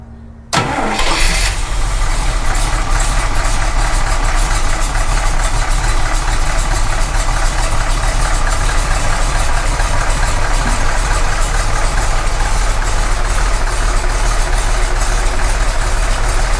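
Dick Landy ramp truck engine cranks and catches after a brief silence, then runs and idles steadily, loud and close, with a constant rumble and no talking.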